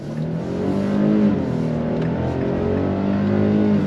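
A 2025 Nissan Frontier V6 pickup with a 9-speed automatic pulls hard under full throttle, engine drone climbing steadily in pitch, heard from inside the cab with no talking.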